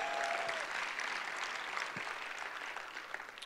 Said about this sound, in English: just give the Lord a hand clap right there.